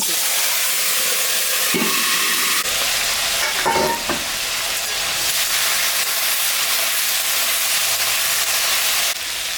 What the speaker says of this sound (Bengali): সবজিটা ভাজা ভাজা হয়ে গেছে